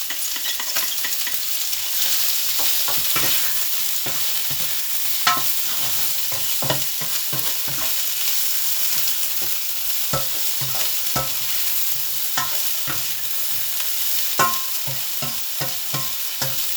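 Chicken fried rice with peas and garlic sizzles steadily in a hot pan while a utensil stirs and scrapes it in frequent irregular clicks, close up, with no talk.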